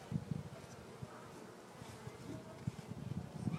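Honeybees hum around an opened hive, a low buzzing with pulses as individual bees pass close, steady and moderately loud with no talk.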